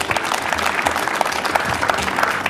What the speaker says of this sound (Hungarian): Akkor ennek is kérnek szépen még egy nagy tapsot.